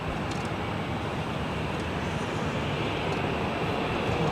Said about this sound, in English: That is Delta Airlines Flight 321 heading to Atlanta, and then